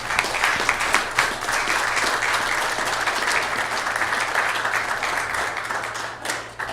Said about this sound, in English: Would you please give these wonderful people a round of applause?